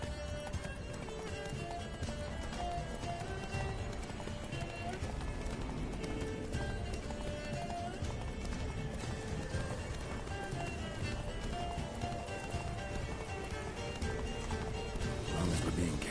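Roach, Geralt's horse in The Witcher 3: Blood and Wine, gallops with a steady, continuous drum of hoofbeats throughout, mixed under a dense game soundtrack with voices now and then.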